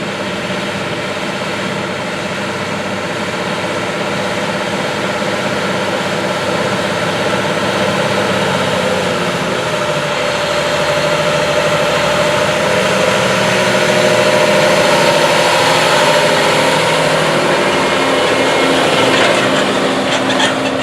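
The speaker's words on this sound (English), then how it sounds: "This Magnum tractor and applicator are more nimble" A Case IH Magnum tractor pulling an anhydrous ammonia applicator across a 3,000-acre corn field, its engine a steady, loud drone with broad rumble and slight swelling in intensity, no voices.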